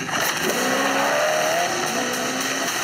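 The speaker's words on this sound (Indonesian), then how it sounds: "Alasan mobil ini jadi salah satu mobil paling cepat di dunia karena mesin turbocharged V8 kembarnya" A fast supercar with a twin-turbocharged V8 accelerates hard, its loud engine note climbing steadily as it pulls, with a tire squeal or skid rising partway through.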